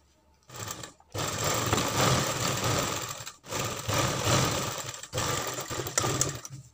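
A sewing machine stitches a sleeve onto a garment in three sustained runs, a close, even mechanical hum broken by brief stops between bursts.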